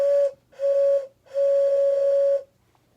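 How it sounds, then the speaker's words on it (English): A Thomas & Friends toy train whistle blows three steady, reedy toots, short, short, then a longer one, loud and close with brief silent gaps between. "But yeah, train whistle, really cool."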